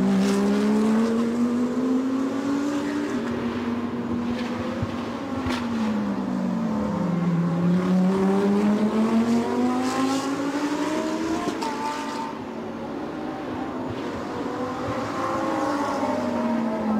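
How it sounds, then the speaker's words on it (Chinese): GT race cars circle a track, a GTC-class Lamborghini chasing closely, their loud engines holding a steady droning roar with rising and falling pitch sweeps as they accelerate and shift, overlapping continuously throughout. "他的身后仍然是庞长元在驾驶 GTC 组别的 Lamborghini 在对他紧追不舍"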